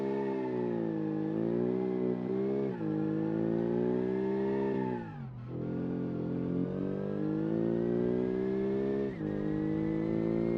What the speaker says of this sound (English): We can do a burnout.